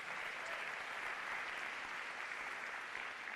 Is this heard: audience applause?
yes